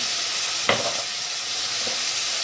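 Green fava beans and onion, seasoned with cumin, ground coriander, black pepper and salt, sizzle steadily in a frying pan while being stirred, with a couple of brief scraping stirs over a constant hiss.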